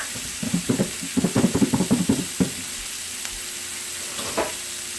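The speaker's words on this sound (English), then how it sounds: "You just want to cook your shrimp until they turn pink" Shrimp sizzle and fry in a covered skillet, a burst of crackling and stirring knocks in the first half easing to a steady, quieter hiss.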